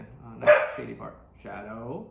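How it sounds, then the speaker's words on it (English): Dogs bark a few times close by in a backyard while someone speaks over them, the barks and yips overlapping his voice. "apologize for the dogs barking in the background"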